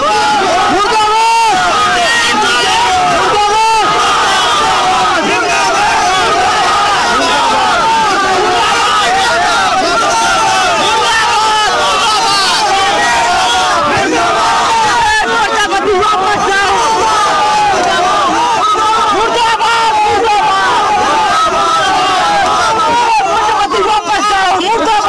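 A large crowd of party workers chants murdabad slogans in protest, waving black flags at a declared candidate in Tindwari. A dense, loud roar of shouting voices runs continuously, with overlapping chatter and no pause.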